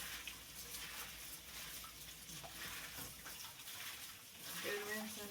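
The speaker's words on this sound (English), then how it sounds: "Rinse off my spinach." Spinach rinsed under a running kitchen tap while making chicken gnocchi soup, a steady broadband splashing of water that runs the whole time, with faint clatter and a brief voice near the end.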